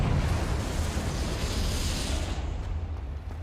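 A Confringo fire spell bursts in the Hogwarts Legacy video game, a sustained roaring explosion that fills the clip loudly and then thins slightly toward the end, with no talking.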